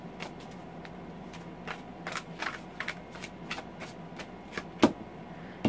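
Tarot of the Tattoo Age cards shuffled by hand, a run of crisp riffling flicks and soft slaps in irregular bursts, close and quiet, without talking.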